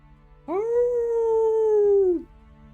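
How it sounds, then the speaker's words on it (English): A single loud, sharp howl rises quickly and holds a steady wavering tone for nearly two seconds before tapering off, heard alone. "they hear like a loud, sharp howling noise"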